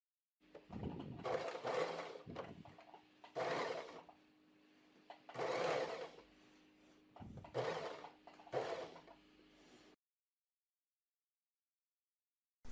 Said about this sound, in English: But I prefer sewing with the lighter fabric on top.